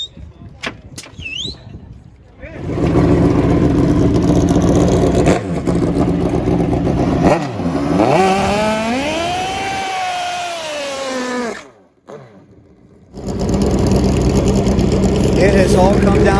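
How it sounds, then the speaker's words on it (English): Drag racing motorcycles at a strip, a turbocharged Suzuki Hayabusa and a nitrous-fed Suzuki GS, rev and roar loudly with rising and falling engine pitch, a brief drop in sound, then the engines blast again. "The nitrous oxide huffing Suzuki GS alongside the turbocharged Suzuki Hayabusa of Craig Brown."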